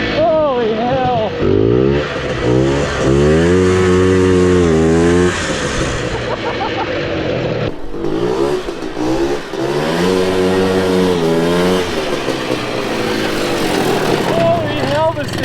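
Two-stroke racing lawn mower engine revving hard and loud up close, rising and falling in repeated pulls with a brief drop near the middle, while voices shout over it.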